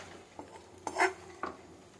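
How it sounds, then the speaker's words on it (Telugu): Chopped dry fruits are stirred in ghee in a pan for pumpkin halwa, giving a few quiet metallic clinks and scrapes of a spoon against the pan over a faint background hiss. "ఇలా డ్రై ఫ్రూట్స్ని బాగా నేతిలో వేయించుకోవాలి"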